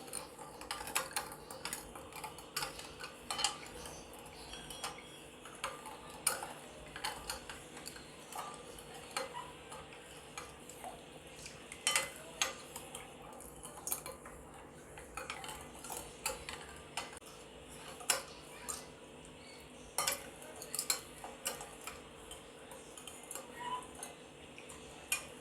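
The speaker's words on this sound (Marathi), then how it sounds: "आणि हे सगळं एकत्र मिक्स करून घेते पहिले." A spoon clinks and taps against a bowl as a milk mixture for kharvas is stirred, making faint, irregular clicking in quick bursts over a quiet background.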